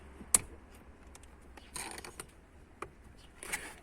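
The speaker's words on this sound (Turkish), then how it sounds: "Bu sigortayı buradaki boşluğa takıyorum." A fuse being pressed into its slot behind the cigarette lighter socket of a Hyundai Accent Era, giving a few faint plastic clicks and scrapes, alone and close.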